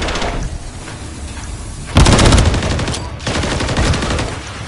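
Automatic weapons rattle in a Modern Warfare 3 multiplayer match, starting as quieter scattered shots, then loud, close rapid bursts break out, pause briefly, and resume in a sustained volley.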